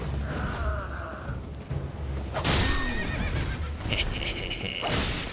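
A horse neighs and whinnies in Elden Ring, its calls rising clearly over a low rumble, with hoofbeats clip-clopping along beneath and game effects swelling partway through.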